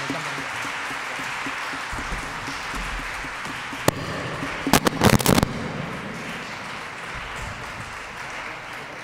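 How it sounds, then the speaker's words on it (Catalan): Concert audience applause in a hall, a steady wash of clapping throughout with a few sharp louder claps or bangs briefly standing out partway through. "us demano un fort aplaudiment per ells"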